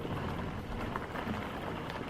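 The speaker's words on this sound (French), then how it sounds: "C'est la tempête!" Steady, dense rain pours through a storm, a continuous broadband wash with scattered drop impacts and no voices.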